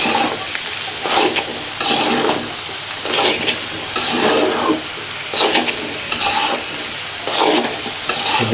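Chopped capsicum is stir-fried for vegetable fried rice, loud rhythmic scraping strokes of a spatula over a steady frying sizzle, repeating about every second, up close and without talk.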